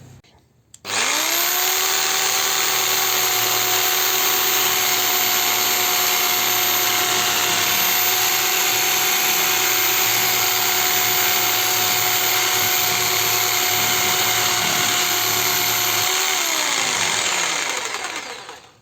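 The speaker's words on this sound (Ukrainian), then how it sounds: "З алюмінієм справляється він легенько, все так само ще залежить від ріжучого полотна." A jigsaw runs at a steady high-pitched whine for about fifteen seconds, cutting through aluminium without a break, then winds down and stops.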